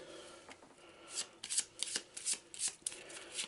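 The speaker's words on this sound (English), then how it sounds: "let's do a little shuffle" A deck of cards shuffled during an Arkham Horror board game session: a run of crisp riffling bursts and flutters, close and fairly loud, repeating in quick rhythm with no talk.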